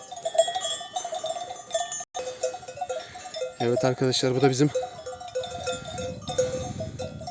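A flock of sheep on a Bolu Mudurnu highland pasture near water, cowbells clanking in uneven clusters with occasional bleats, while someone talks over them.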